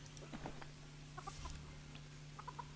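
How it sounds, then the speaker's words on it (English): Chickens clucking in the farming video game Palia, several short soft clucks in scattered bursts over a faint steady background hum. "Let's do these dumb chickens."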